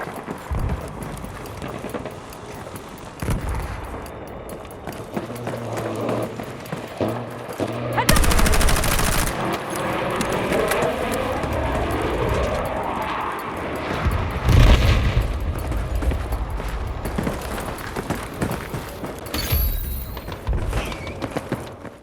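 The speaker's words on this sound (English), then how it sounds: "the very distinctive sound of multi-barrel guns" Multi-barrel guns and other gunfire in the video game Battlefield 6, a loud stretch of rapid, dense shooting with booming blasts and a steady rattling clatter that runs throughout the battle mix.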